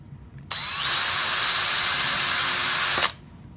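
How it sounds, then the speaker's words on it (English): A hand-held power drill whirs steadily for about two and a half seconds while drilling a pen blank, starting and stopping abruptly, close and loud with no talking. "I'm just going to hand hold this and drill it as straight as I can from both sides again"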